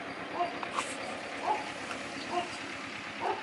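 Several short barks from dogs at a distance in a countryside village, spaced irregularly against a soft, noisy outdoor background.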